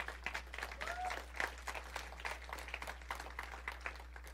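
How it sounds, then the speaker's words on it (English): A church congregation gives a fairly quiet round of applause, scattered claps at moderate distance with a steady low hum underneath and no voices. "Can we give the Lord an applause for a moment?"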